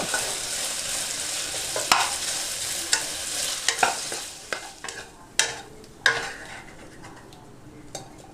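Chinese sausage (kun chiang) fries in a pan over lowered heat with a steady sizzle, broken by several sharp utensil scrapes and clinks against the pan.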